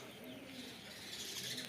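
Soft pigeon coos murmur in the background, low and continuous, with faint chirps mixed in at a moderate distance.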